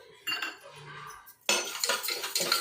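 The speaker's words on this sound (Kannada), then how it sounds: "ಈಗ ಮೊದಲಿಗೆ ಹೆಸರು ಬೇಳೆನ ಹುರ್ಕೊಬೇಕು ನಾವು" Moong dal roasting in a metal pan while a spoon stirs and scrapes it, with a few short, close, clinking and scraping strokes. A louder, busier burst of stirring comes in the second half.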